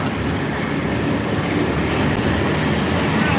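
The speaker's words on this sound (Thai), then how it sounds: "ดูบรรยากาศนะครับบรรยากาศภายในรถไฟ ชั้นสามชั้นสาม" A steady, loud rumble of wheels and carriage noise fills the interior of a third-class passenger train headed to Hua Hin, continuous throughout with no distinct voices.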